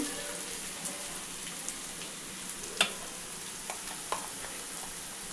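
Sliced onions frying in a pan as ginger garlic paste is stirred in for a chicken mango curry, giving a steady soft sizzle broken by occasional light scrapes and clicks of the spoon.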